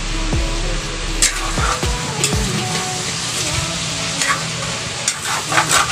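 Food cooking in a pot is stirred with a few scraping clinks of the utensil against the metal early on, followed by ongoing soft sizzling and bubbling with occasional crackles.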